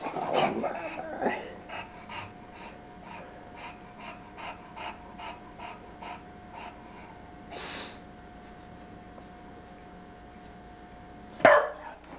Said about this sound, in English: What a grouchy doggy.